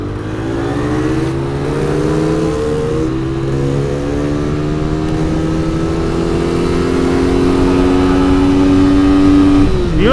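A loud 2014 Suzuki Satria FU motorcycle engine revs steadily higher toward 12,000 rpm, its pitch climbing smoothly over several seconds with no pauses, sounding close by and continuous.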